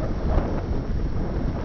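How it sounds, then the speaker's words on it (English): Steady wind buffeting a camera microphone beside a river, a continuous low rumbling roar with no pauses while a freighter passes. "it's kind of windy and pushing my camera."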